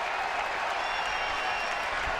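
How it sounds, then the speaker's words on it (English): Scattered, sarcastic applause rises from a ballpark grandstand crowd during a Chicago Cubs at Boston baseball game, a steady broadband patter of distant clapping with no talk over it. "a sarcastic round of applause coming out of the grandstand here"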